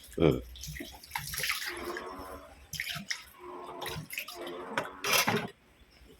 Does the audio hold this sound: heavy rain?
no